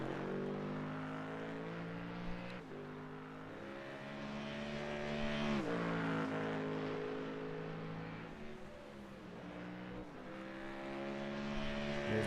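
A Mustang GT3 race car in a racing game lapping Mount Panorama Circuit at Bathurst: a loud, steady engine drone that rises through the gears, with brief shift dips and no talk over it.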